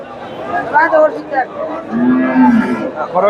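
A Friesian heifer at an outdoor cattle market lets out a low, drawn-out moo close by, with people chattering around it.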